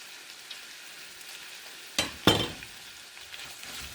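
Garlic tossed into a pan of sautéing vegetables for Filipino ginisang gulay with bitter melon and squash gives a soft steady frying hiss with two sharp sizzling bursts as it lands, then settles back to a quiet crackle.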